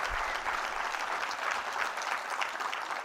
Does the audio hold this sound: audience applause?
yes